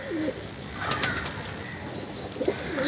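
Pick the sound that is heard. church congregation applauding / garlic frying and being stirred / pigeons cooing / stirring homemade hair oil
pigeons cooing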